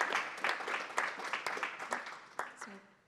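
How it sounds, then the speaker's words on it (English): A crowd gives one more round of applause for summer college interns after their presentations; clapping comes in uneven bursts that fade toward the end, with a voice talking over it. "How about one more round of applause for these incredible humans?"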